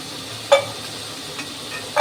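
Lentil dumplings (bori) fry in a little oil with a soft, steady sizzle, punctuated by three sharp utensil clinks as they are stirred and lifted from the pan.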